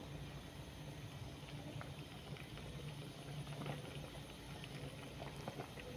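A Thai-style beef curry with vegetables boils in a pot, a soft, continuous bubbling and popping heard up close. It stays steady and fairly quiet throughout, with no talking.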